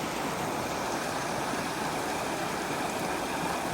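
A river running steadily near a campsite where people must cross through it, a constant broadband rush of flowing water with no talk.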